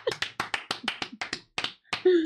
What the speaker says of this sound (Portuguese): Vamos bater uma salva de palmas aqui